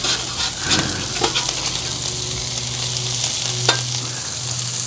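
Member's Mark bacon sizzling and frying in a pan, a loud steady crackle with a few scraping touches as the strips are moved, no voices.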